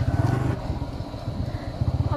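Motorcycle riding along a road in Panchthar, Nepal, its engine rumbling steadily up close with some clatter and wind buffeting throughout.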